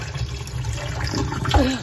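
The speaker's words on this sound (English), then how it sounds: "Throwing that water off with my one hand." Water poured off red peas from a pot in a Jamaican kitchen, a continuous splashing, gurgling stream with a brief slosh near the end, close and moderately loud.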